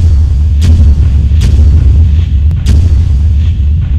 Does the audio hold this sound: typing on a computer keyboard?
no